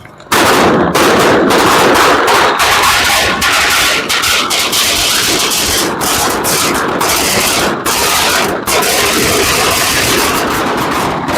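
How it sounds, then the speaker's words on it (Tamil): Firecrackers go off in a long rapid string outside a market in Kayts, Jaffna, Sri Lanka, a loud, dense crackle of bangs that runs without pause for over ten seconds. "இளைஞர்கள் இந்த வெடி கொளுத்தி சந்தோஷமாக இந்த நிகழ்வை ஆரம்பித்து வைக்கிறோம்"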